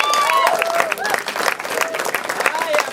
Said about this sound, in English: Round of applause for Benny Moore.